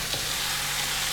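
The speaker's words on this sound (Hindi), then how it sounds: "गोश्त को हमने प्याज के साथ भून लेना है" Mutton pieces frying with onions over a medium flame, a steady close hiss of sizzling oil that holds evenly through the short moment with no voices.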